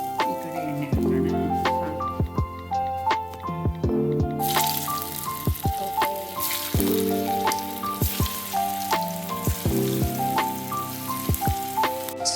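Kothimbri vadi shallow frying in hot oil crackles and spits close by, with rapid irregular pops and drips over a continuous sizzle that grows brighter partway through.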